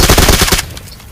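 Rapid automatic gunfire from a BGMI (PUBG Mobile) battle royale match, a loud dense burst of repeated shots lasting about half a second before cutting off into quieter game ambience.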